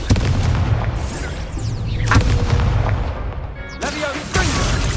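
Confringo blasting spells explode during a Hogwarts Legacy duel, giving two sharp bursts over dense, busy game combat noise, with a voice partly audible.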